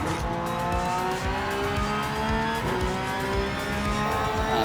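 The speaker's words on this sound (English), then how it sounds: "A lot of time with this car spinning." Car spinning out in Gran Turismo 7 on the Nürburgring: a steady engine drone with tire squeal and skidding running throughout, loud and continuous with no talk.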